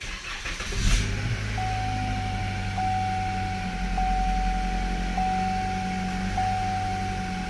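A Chevrolet Malibu with ABS and brake warning faults cranks and starts at close range, then settles into a steady idle with a faint electronic tone running over the engine hum.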